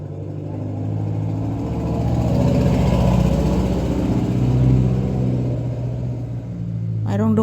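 A vehicle passes along a road near a resting puppy, its engine rumble swelling and fading over several seconds as it goes by, fairly close and loud.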